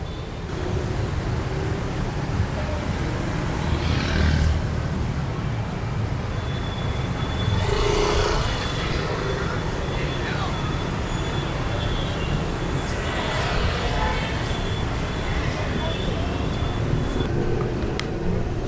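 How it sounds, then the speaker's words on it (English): City street traffic at the tail end of rush hour keeps up a steady close wash of passing vehicles, with a few louder swells from nearby cars and faint distant beeps. "Check out how little traffic there is here."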